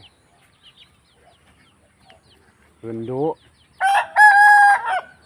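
A Thai fighting rooster crows loudly nearby, preceded by a short clucking call, with a brief spoken word just before.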